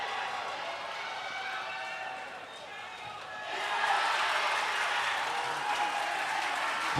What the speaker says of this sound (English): A response from the crowd and from the bench as well.